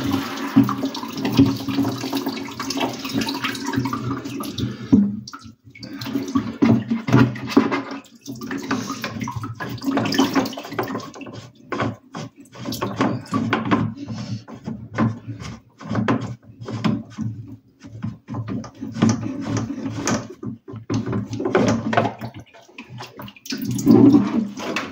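Water gushes and splashes steadily from an opened well-water filter housing, loud and continuous with small fluctuations and occasional knocks, and no voices.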